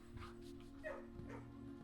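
A dog yips and whimpers in a GTA role-play game world, short faint barks over a steady low game hum.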